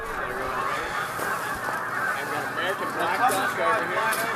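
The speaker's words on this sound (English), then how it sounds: "Black ducks in the air." Black ducks call while flying over private land on a Maryland coastal birding tour, a continuous chorus of honking, quacking cries at moderate distance, with people talking quietly underneath.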